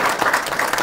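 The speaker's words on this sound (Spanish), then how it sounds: "Así que un aplauso para todos ustedes." An audience applauds with a brief, dense burst of clapping heard close and alone.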